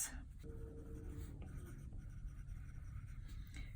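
Stylus writing on a tablet's screen to fill in a digital cake and cookie planner consultation pad: soft, continuous scratchy strokes, close and steady, with no talking.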